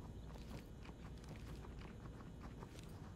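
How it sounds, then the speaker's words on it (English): Rapid, faint footsteps scattered around a modded map in the video game Ready or Not, a muffled patter of many feet pattering over a dense, noisy background. "there's like footsteps everywhere"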